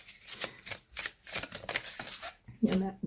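Oracle cards are shuffled and drawn by hand in quick, crisp bursts of riffling and flicking, close up, with a voice speaking alongside.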